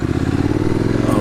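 Motorcycle engine running steadily while riding along a rural country road in Litchfield County, Connecticut, a loud, close low rumble with rapid rhythmic pulsing and faint clatter throughout.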